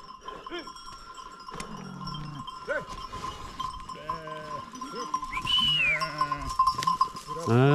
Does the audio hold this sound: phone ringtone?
no